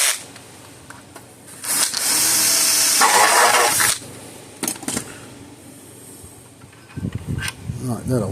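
A power tool bores out a bolt hole on a solar electric fence charger, whining loudly for about two seconds before stopping, with handling clatter and a voice speaking afterward.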